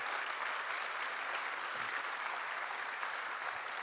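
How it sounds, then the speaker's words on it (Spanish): A church congregation claps steadily and evenly throughout, a dense, continuous wash of applause with no voices standing out. "Si quiere aplaudir, hágalo con gozo."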